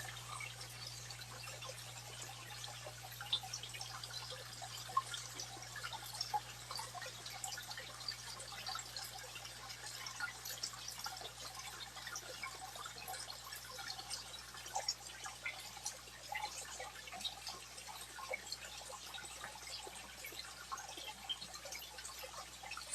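Faint, continuous trickle and scattered drips of water in an aquaponics setup just after the pump is unplugged, a quiet, uneven patter over a low steady hum throughout.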